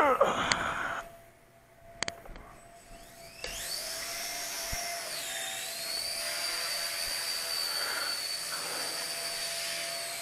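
Hisky HCP60 small RC helicopter in flight in 3G mode, a steady high-pitched motor whine with a rising and falling rotor tone that holds continuously after a brief quieter spell at the start.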